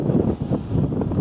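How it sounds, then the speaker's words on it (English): Strong wind buffets the microphone outdoors at a race meeting, a steady low rumble with gusty swells throughout, close and loud with no speech. "It is very windy today, Jeff."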